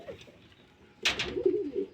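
Pigeons in a loft with paired chicks coo close by, a low throaty burst after a second of quiet, with a few rolling notes following, alongside faint fluttering and rustling.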